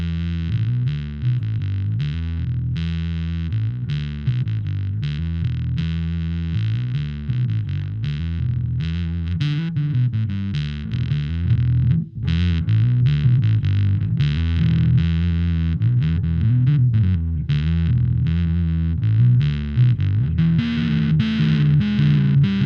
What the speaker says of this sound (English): let's hear how it sounds with a lighter amount of fuzz and maybe a little bit brighter